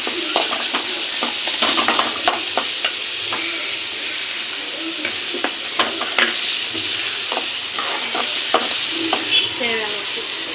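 Onions sautéing in a pan with garam masala powder for crab masala: a loud, constant sizzle with frequent spatula scrapes and taps against the pan, close up and uninterrupted.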